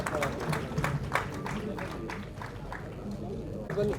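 An audience at a Kannada Rajyotsava award ceremony claps in bursts of scattered applause, fairly close and moderately loud, rising and fading over a few seconds with crowd murmur beneath.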